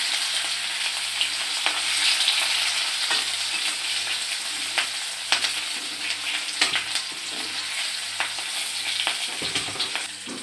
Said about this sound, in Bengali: পেঁয়াজ আর কাঁচা লঙ্কা দিয়ে দেবো এক সাইড দিয়ে